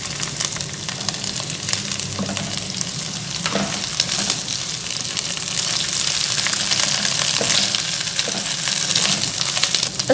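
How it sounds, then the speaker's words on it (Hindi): Ginger garlic paste sizzles and fries steadily in hot oil with onions and whole garam masala for fish pulao, a continuous close crackle with occasional stirring scrapes throughout. "अदरक लहसुन को लाइट ब्राउन होने तक फ्राई करने के बाद"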